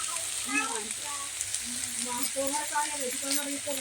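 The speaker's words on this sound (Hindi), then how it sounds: "अब अच्छे से इसको हम भून लेते हैं और सारे मसाले को डाल लेते हैं यहीं पर।" Masala and Maggi noodles roasting in a pan, with a steady soft sizzle and occasional stirring scrapes running under someone talking throughout.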